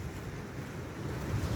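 Big ocean waves roll onto a beach at Negril, Westmoreland, Jamaica, heard as a continuous low rumbling wash of surf mixed with wind noise, fairly quiet and with no voices over it.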